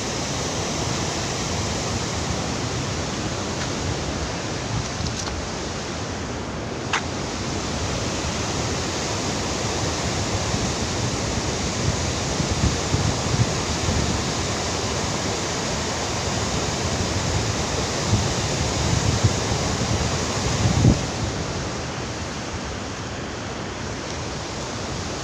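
A powerful waterfall roars steadily and loudly for the whole stretch, a dense continuous rush of falling water with spray, no voices heard.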